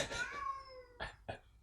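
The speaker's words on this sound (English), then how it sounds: "it's my cat. He's way down the hallway." A pet cat meows from far down a hallway, one drawn-out call followed by two short ones, faint and distant, with no talk over it.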